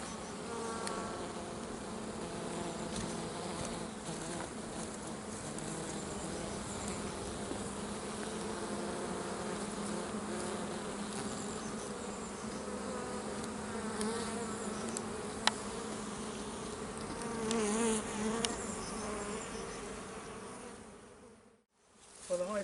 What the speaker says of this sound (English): the hive's settled down, the bees don't even know what's gone on